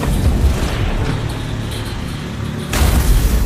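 An army tank fires its gun: a deep, heavy boom swells into a loud rolling rumble that fills the clip, then a fresh blast bursts in near the end. No talking.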